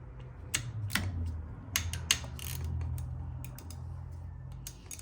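Close metallic ticks and clicks of a wrench working loose the cam tensioner bolts on a Suzuki LTZ 400 engine during a top-end teardown, a quick uneven series of sharp taps over a low hum.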